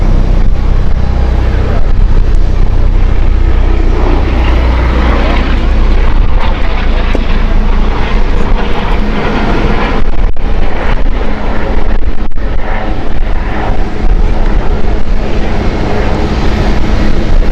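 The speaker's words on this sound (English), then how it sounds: "they are starting the KLM 787 engine" Loud, steady roar of a KLM Boeing 787's jet engines starting close by at Amsterdam Schiphol Airport, a broad continuous rumble that barely changes.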